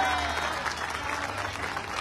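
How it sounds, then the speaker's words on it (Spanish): Audience at a political campaign rally in Sahuayo applauding a local candidate, a short burst of dense, steady clapping filling the whole moment, with a faint voice underneath. "Un fuerte aplauso."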